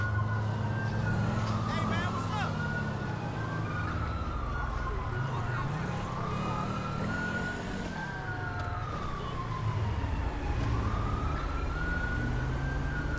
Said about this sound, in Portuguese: Pode andar é essa sirene